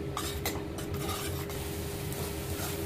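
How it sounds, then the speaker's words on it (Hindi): Tomatoes and onion paste fry in oil for a Punjabi-style dal makhani while a spoon scrapes and stirs the pan, giving a steady sizzle broken by a few sharper scraping strokes, close and with no talk. "अब इनको हमने लगभग 1 मिनट तक अच्छे से भूनना है, ये जब तक टमाटर ये ऑयल को अलग नहीं करने लगते।"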